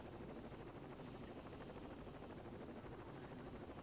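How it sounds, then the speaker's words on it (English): Helicopter from the Rainbow Six Vegas video game arriving for extraction, a steady loud rotor roar with constant broadband thump that fills the whole stretch without letup. "Heli kommt."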